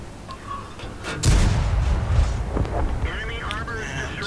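A World of Tanks M18 Hellcat tank destroyer fires at a T-40 light tank, one heavy booming shot followed by rumbling aftermath, with someone talking over it.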